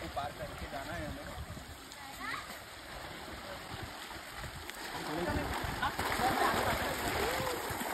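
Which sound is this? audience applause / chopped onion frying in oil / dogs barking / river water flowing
river water flowing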